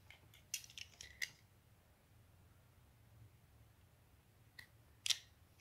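Leftover multifilament and nylon fishing line being snipped after tying a leader: a few quiet, crisp cutting clicks in a short cluster early on, then near silence before one more sharp snip near the end.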